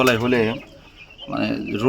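Two drawn-out calls from white hens on a farm in Savar, Dhaka, close and fairly loud, separated by a brief quiet pause.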